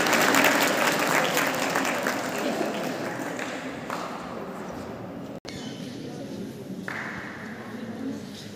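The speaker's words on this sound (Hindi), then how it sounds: "एक बार जोरदार ताली आप सब अपने" Applause for guests at a Republic Day school gathering, a dense crowd clapping loudly at first and gradually thinning and fading until it dies out after a few seconds, with a sharp click near the end.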